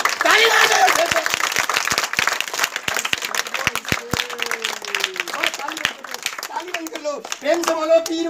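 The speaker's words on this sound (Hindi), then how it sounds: "ताली मार दो, ताली मार दो" Village crowd claps at a magic show, a sparse, uneven run of sharp hand claps with a voice and other voices talking over it throughout.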